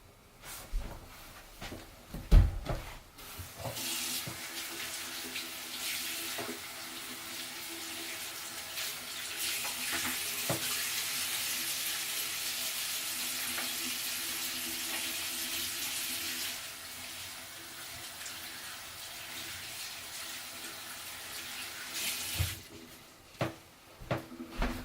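A basin of wash water from raw suri alpaca fibre is emptied near a shower hose, pouring in a steady rushing stream for about twelve seconds, framed by knocks and clatter of handling before and after.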